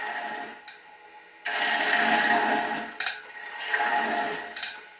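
A woodturning tool hollows a spinning log into a bowl, loud rough scraping cuts in sustained passes with brief pauses between them, close and without talk.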